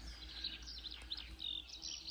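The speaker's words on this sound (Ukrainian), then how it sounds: "Пташечки співають, вау." Several small birds chirp and trill in quick, bright phrases, fairly faint and outdoors in a green village over a low steady background hum.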